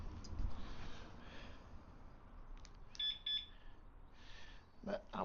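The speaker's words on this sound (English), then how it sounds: "That's the current alarm." A motorbike alarm gives a couple of short, high, quick beeps. They sound faint against quiet low rustling and a little murmured voice.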